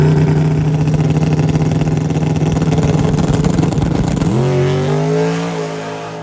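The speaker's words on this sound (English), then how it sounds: "let's see what the DYO Chevelle could put down." Chevelle drag car at a street drag racing event, a loud, sustained engine roar close by that drops and shifts pitch near the end as it launches and pulls away down the strip.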